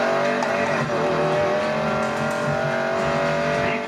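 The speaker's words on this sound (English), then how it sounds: "Watch this Mustang racing. I love the sound design, everything about it." A Ford Mustang races in the Need for Speed Payback video game, its engine roaring steadily at high revs with some tire squeal mixed in, loud and continuous with no talking.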